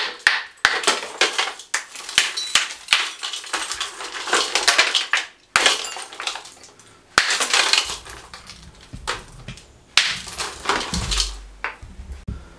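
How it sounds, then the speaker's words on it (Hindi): Ice block being smashed and broken up for a chilli soda drink, loud repeated cracking and crunching impacts in an irregular rhythm, close up, with clinking fragments and no talk. "बर्फ तोड़ने के बाद सबसे पहले हम इसमें मट्टी वाले इसमें बर्फ डालेंगे"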